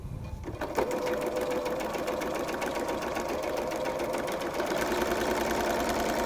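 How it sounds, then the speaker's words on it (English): A sewing machine stitches fabric in a continuous fast whirring run, close and loud, after a brief quiet start. "And we sew that one down."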